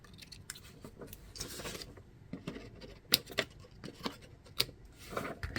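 Scissors cutting through paper or craft material for a corner decoration, a close series of irregular snips and rustling crunches, with no talk.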